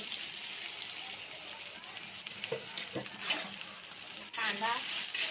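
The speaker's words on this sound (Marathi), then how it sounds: "कांदा परतून घेऊया" Onion frying in oil in a home kitchen pan, a steady broad hiss with a few stirring scrapes and a brief watery splash near the end, fairly close and without talk.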